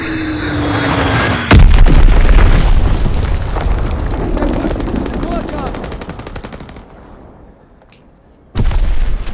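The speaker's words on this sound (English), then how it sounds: "Enemy bomb incoming!" A bomb explodes in Call of Duty: WWII, a loud, sudden boom that tears through the scene and then rolls off into a long, fading roar, with gunfire crackling around it and another blast near the end.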